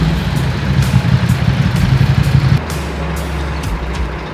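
A truck delivering brewery tanks idles close by, a low throbbing engine with a pulsing rumble that drops to a smoother idle partway through, with sharp hissy air bursts recurring overhead.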